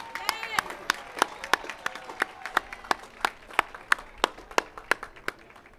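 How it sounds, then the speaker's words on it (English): Graduation audience at a 2013 Berkeley City College ceremony for the Laney class applauding, a steady patter of many hands with sharp individual claps standing out throughout, moderately loud and close. "Please give a warm round of applause again for Mr."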